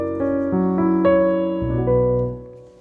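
A piano plays the Scriabin Op. 11 No. 5 chord voiced with an added thirteenth, as a series of sustained notes entering one after another and ringing together clearly, then fading out, with no talking.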